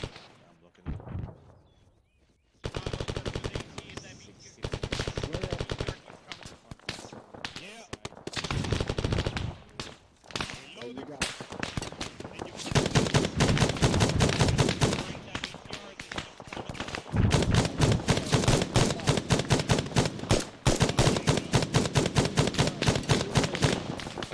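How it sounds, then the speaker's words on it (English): Automatic grenade launcher fire in a military video game, heavy rapid thumping bursts repeating in long strings, broken by short pauses, with other gunfire mixed in and people talking over the radio at times. "Alpha's walking in fire with the AGS"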